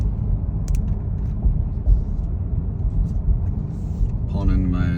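A 2023 Corvette C8 3LT, shifted from 3rd down to 1st gear, rolls slowly into a residential driveway, its low engine rumble steady and close. Someone talks over the engine noise near the end.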